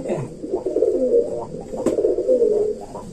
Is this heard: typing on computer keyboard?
no